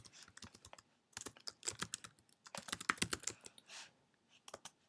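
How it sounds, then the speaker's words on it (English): Rapid keystrokes on a computer keyboard while entering silver coin holdings, such as Washington quarters, into a spreadsheet. Clicks come in irregular bursts with short pauses, close and fairly loud, with no talking. "I'm going to start out by typing in the silver type."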